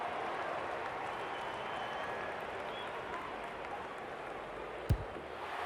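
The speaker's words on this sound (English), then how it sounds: "crowd noise tells you all you need to know" A crowd roars steadily in a large stadium at an Australian rules football match, a broad sustained wash of cheering with a sharp thud near the end.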